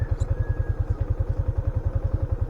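Motorcycle engine running steadily on a trail ride, with a fast, even low-pitched pulsing throb that stays loud and close throughout, with no talk over it.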